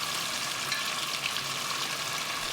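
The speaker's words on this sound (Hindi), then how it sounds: "पानी डालते गए और मसाले भूनते गए।" Spices fry in a pan of water and masala for a quail curry, giving a steady, close, continuous sizzle that stays even throughout.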